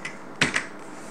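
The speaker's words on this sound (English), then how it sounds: "I wanna press Control B on keyboard." Two quick clicks of a computer keyboard shortcut, Control B being pressed, close and crisp in a quiet room after a faint earlier tap.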